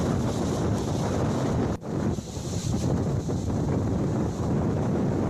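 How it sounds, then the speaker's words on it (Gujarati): Strong wind buffets the microphone over roaring, crashing high waves on the Jafrabad seashore amid rain, loud and continuous with a brief dip early on. "જાફરાબાદના દરિયા કિનારે પવન સાથે ઉછળ્યા છે ઊંચા મોજા"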